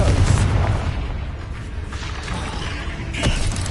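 Hogwarts Legacy's Confringo blasting spell lands with a deep, booming burst up front, followed by rumbling debris and a second sharp impact near the end.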